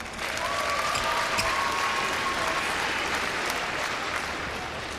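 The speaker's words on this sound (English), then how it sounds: "Expect a big cheer for the Danes here." A crowd at a 2011 World Championships badminton men's doubles quarterfinal cheers and applauds for the Danish pair, a dense, steady wash of clapping that fills the arena.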